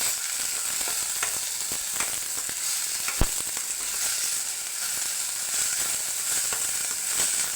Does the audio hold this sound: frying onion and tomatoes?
yes